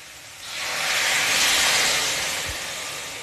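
Water poured into a frying pan of jackfruit curry with potatoes and spices erupts into a loud, steady sizzling hiss that swells after a brief moment and slowly eases off, with no voices over it.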